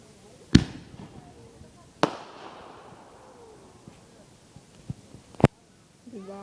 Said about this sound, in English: here comes the mortar